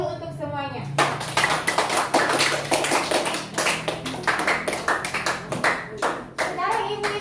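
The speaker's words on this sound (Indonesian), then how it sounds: "Ibu kasih tepuk tangan dulu untuk semuanya." Classroom of students clapping hands, rhythmic patterned claps with distinct sharp beats following a spoken lead, with children's voices and talk mixed in at the start and end.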